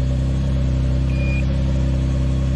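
Car engine idling just after start-up, recorded close to the exhaust while a carbon monoxide detector is tested; a loud, steady low rumble with regular pulsing continues throughout, and a brief faint tone sounds in the middle.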